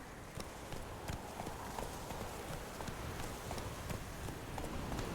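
Roach the horse's hooves clip-clop in a steady, quick rhythm across The Witcher 3 over a dense, noisy game background, with no voices.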